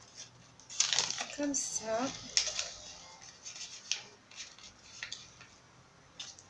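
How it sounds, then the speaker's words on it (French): Scissors snipping paper for a junk journal, with short crisp cuts and rustling spread through the clip, close and fairly quiet under someone speaking French. "ce que je vais faire, c'est que je vais couper"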